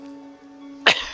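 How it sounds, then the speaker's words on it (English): One short cough right at the end follows a quiet stretch with a steady hum. "I have got a little bit of a cough."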